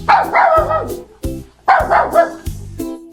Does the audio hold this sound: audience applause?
no